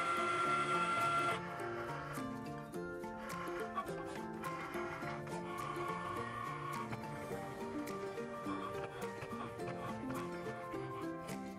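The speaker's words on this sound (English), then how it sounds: "when the Cricut symbol starts flashing, press it for the design to start cutting" A Cricut Maker cutting a paper design gives a steady mechanical whirring, with motor tones stepping up and down as the carriage moves back and forth, loudest briefly at the start and then continuing evenly close by.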